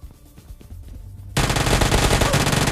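A UMP gun in the video game PUBG Mobile Lite fires a loud, fast automatic burst that keeps going to the end. Quieter in-game sounds come before the burst starts.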